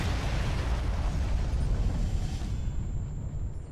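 A turret in the Mechwarrior Living Legends game blows up in a loud, sustained roaring blast that rumbles heavily, then slowly fades.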